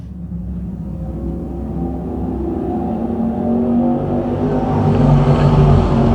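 Crate sprint cars charging into turns one and two at Can-Am Speedway: a rumbling pack of engines grows steadily louder and higher over several seconds, with no voices.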